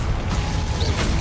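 A Confringo fire spell blasts off in the Hogwarts Legacy video game, a loud, dense burst of crackling impact noise that fills the whole short moment with no pause.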